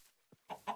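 Chickens clucking in Minecraft, a few short faint clucks in quick succession, the last two louder and closer, with no voices.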